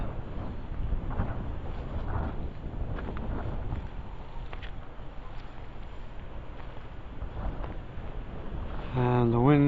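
Gusty wind blows steadily across the microphone on an open footpath beside woodland, a continuous low rumbling buffet throughout, growing louder near the end as a voice starts to speak.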